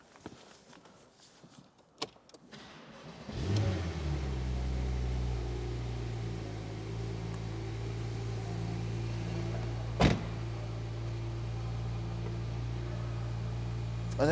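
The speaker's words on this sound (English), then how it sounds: "So all the windows go up." Power windows rising on a 2017 Porsche 911 Turbo convertible: a steady motor hum begins after a few clicks and runs on for about ten seconds, with a brief knock midway, near and fairly quiet.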